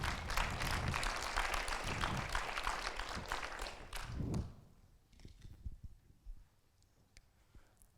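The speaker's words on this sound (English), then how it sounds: "Give a warm applause to our strategist" Audience applause at a livestream premiere event for the Delft Hyperloop student team, dense steady clapping for about four seconds before tapering off into quiet room sound with a few scattered claps.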